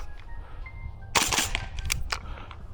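An EMG CGS DDMK18 airsoft gas rifle fires a quick burst of sharp, snappy shots up close, then a few more separate pops after a brief pause, with no talk over them.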